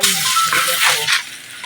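Short burst of hissing, crackling sizzle from eggplant frying in a hot pan, fairly close.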